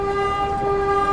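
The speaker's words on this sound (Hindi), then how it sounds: "तो फिलहाल ये ट्रेन तो मैलानी की तरफ जा रही है" Train on the Dudhwa National Park line heading toward Mailani, a steady horn-like tonal drone sounding continuously and fairly loud over a low rumble.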